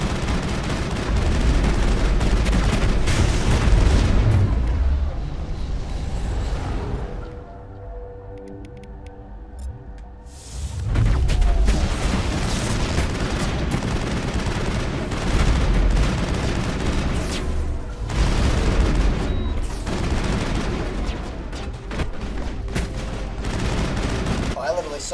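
Sustained gunfire bursts in the sci-fi video game Mass Effect during a firefight, dense and loud with booming impacts, dropping to a brief quieter stretch mid-way before the shooting resumes, with voices mixed in.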